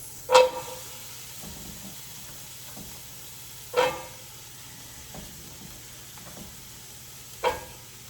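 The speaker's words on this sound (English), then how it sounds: "we're going to dump in our vegetables" Vegetables dropped into a sizzling pan of vegan Thai red curry, with a steady frying hiss under three sharp clatters of the food going in, close and fairly loud.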